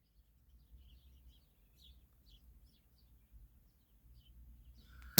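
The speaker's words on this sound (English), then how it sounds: "Look at a sparrow just sitting right there, singing." A sparrow sits and sings nearby, giving short, faint chirps in scattered bursts against quiet background hum, ending with a sudden loud knock.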